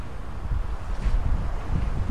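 Strong wind at an outdoor football training ground buffets the microphone with continuous low rumbling gusts that swell and ease, loud and close, with no other clear sounds.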